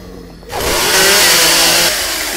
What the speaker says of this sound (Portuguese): É uma motosserra.